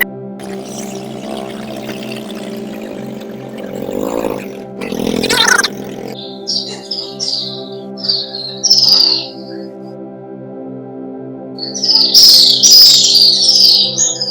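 Birds chirp and tweet in short bursts outside a temple, over a steady low hum and a loud mid-clip rush, with no voices.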